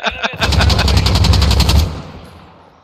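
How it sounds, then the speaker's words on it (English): In Call of Duty Modern Warfare, an automatic weapon fires a rapid burst of about a dozen loud, close shots, then a ringing tail fades out. "He just shot him in the head."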